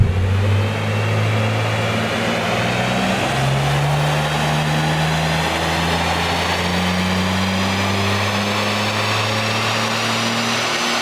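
BMW M3 G80 on a dyno with a full induction kit and prototype panel filters, engine droning loud and steady under load as its pitch climbs slowly through a long pull, with no voices.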